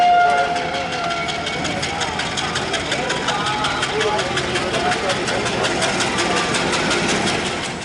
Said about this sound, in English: Now let us move inside the railway station and let's see what's going on.